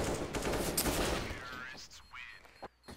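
A rapid burst of gunfire crackles at the start, then fades as a few faint shots and brief voices follow.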